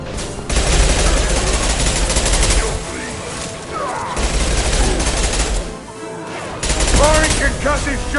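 Dense, continuous gunfire and booming impacts from a Mass Effect 2 combat scene, loud and sustained with brief lulls, and a voice calling out over the shooting.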